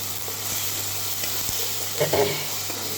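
Masala spice paste sizzles and fries steadily in a pan, a continuous close hiss with a few louder scraping stir strokes near the end and no talking.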